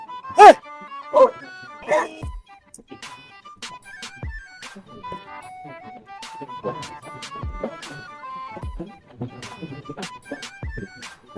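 A dog barks at cyclists on a winter bike ride, several sharp barks and yips early, then scattered barks further off under continuous outdoor noise, with people talking.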